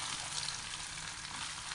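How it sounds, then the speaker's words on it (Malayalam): Chopped coconut pieces fry in hot oil in a pan, a steady, dense sizzle holding even and close throughout with no voices. "ചട്ടിയിലേക്ക് എണ്ണ ഒഴിച്ചിട്ടുണ്ട്. ഇനിയിപ്പോൾ ഈ തേങ്ങ കൊത്തിടാം."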